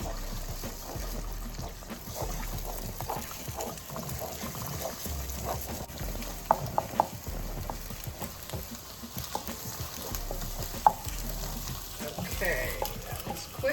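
Egg scrambling in a very hot oiled pan for Chinese fried rice, with a constant frying sizzle and busy, repeated scraping and stirring from a utensil, plus a few sharper knocks against the pan.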